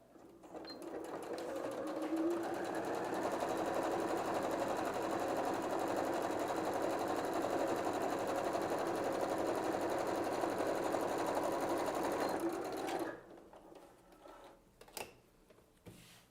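A sewing machine runs a long continuous seam attaching a zipper to a denim bag, producing a steady mechanical whir that holds for about ten seconds and then stops abruptly, leaving a few faint handling clicks.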